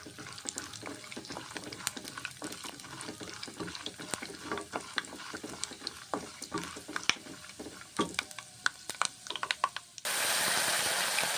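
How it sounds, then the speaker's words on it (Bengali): Peanuts and cumin seeds fry in hot oil with a continuous crackling sizzle, while a utensil stirs and scrapes the pan in irregular strokes. A louder, broader hiss swells in near the end. "বাদাম আর জিরে ভালো করে ভেজে নিলাম গরম তেলে।"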